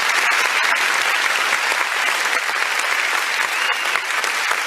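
A crowd at a youth dialogue event in Lagos keeps up loud, continuous applause for a speaker being introduced. The dense, steady clapping fills the whole stretch with no break.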